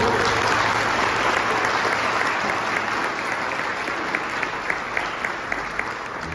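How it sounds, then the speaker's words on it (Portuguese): A church congregation applauds the Lord during a sermon at a Bola de Neve service, steady sustained clapping that fills the room, with sharper individual claps standing out near the end. "Se você quer, aplauda o Senhor."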